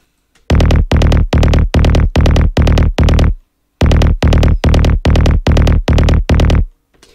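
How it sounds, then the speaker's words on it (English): Hard psy bass kick with effects processing, a rapid run of loud, punchy booming hits in two bursts of about seven and nine, separated by a short gap, with no voice over it. "the psi bass sound like this."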